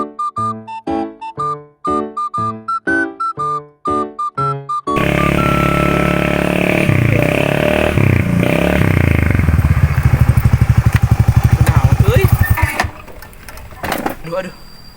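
A motorcycle engine runs loud and steady for about ten seconds after a burst of music, its sound rising and then cutting off, with people talking around it.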